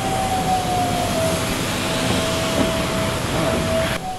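An Air France airplane at the takeoff runway roars with a steady, broad jet-engine wash at close-to-moderate distance, carrying a faint sustained whine throughout, with no voices.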